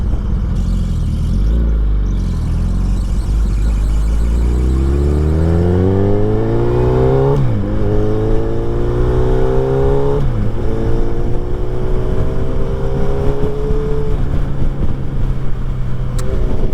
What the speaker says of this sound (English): And there's a lot of traffic out right now.